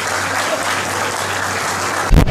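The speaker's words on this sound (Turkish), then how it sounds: "Eğer beni duyuyorsanız Nedim Bey'e bir alkış istiyorum." Wedding guests applaud at a wedding celebration, a loud, sustained crowd clapping with a constant low hum underneath, ending in a brief burst of louder noise.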